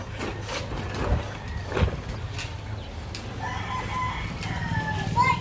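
A rooster crows on a farm in Bukidnon during a September corn harvest, its call rising over low rumbling background noise, with other faint bird calls scattered through the scene.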